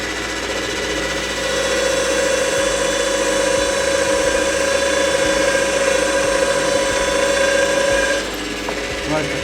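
A Scheppach DP55 drill press runs with a steady motor whine and hum, close and loud, holding an even tone for several seconds before spinning down near the end.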